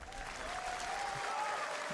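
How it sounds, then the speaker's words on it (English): Round of applause from a crowd at Summer Game Fest, a soft, distant wash of clapping with a faint tone running underneath. "Round of applause."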